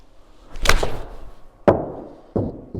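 Full golf swings strike balls at a practice performance center, giving three sharp, solid impacts in quick succession, each trailing off into a short resonant decay with no talk.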